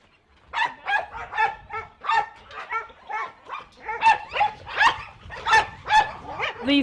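Several rescue dogs at a kennel bark in a quick repeated series, loud and close, with yips and whimpering mixed between the barks and no talk over them.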